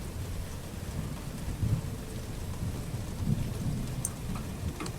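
Steady rain falls with a dense hiss and low rumbling, like a storm heard close by, continuous throughout.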